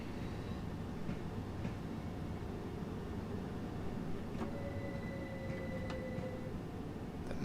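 A BR Class 377 electric train creeps slowly into Eastbourne station in a train simulator game, a steady low rumble with faint rail squeal and a brief rising whine near the end, no voices.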